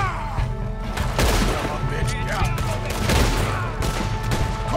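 Gunfire in Red Dead Redemption 2 as shots come from a hill, a rapid volley of sharp cracks and reports with crashing impacts, dense and close, spread across a few seconds.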